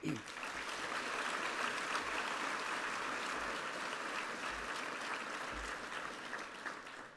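Audience applause at a Holocaust awareness evening with a survivor, a large crowd clapping steadily and densely for about seven seconds, fairly even in level and tapering slightly at the close.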